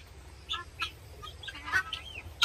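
Chickens and geese at a morning feeding in a rural yard, with several short honking and clucking calls scattered over a couple of seconds against a low background rumble.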